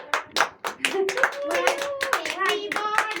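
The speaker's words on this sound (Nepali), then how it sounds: "छिटो ताली बजाऊ" Clapping in time at a child's home birthday celebration, several sharp claps at the start, then singing voices carrying a tune over steady clapping, close and fairly loud.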